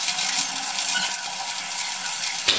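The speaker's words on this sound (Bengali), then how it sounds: "গ্যাসের ফ্লেমটা একদম লোতে রেখে আমি চিকেনগুলোকে ভেজে নিচ্ছি" Marinated chicken pieces fry steadily in moderately hot oil over a low gas flame, a dense, even sizzle close up that continues unbroken for the whole stretch.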